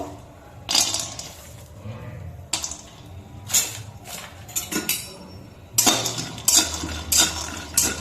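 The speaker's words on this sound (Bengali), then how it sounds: "এইগুলোকে এখন এর ভিতর দিয়ে দেবো কড়াই ভিতরে আর ভালো করে ভেজে নেব" Peanuts are fried over low flame in a wok, with repeated metallic clanks and scrapes of a stirring utensil in irregular bursts over a faint background hiss.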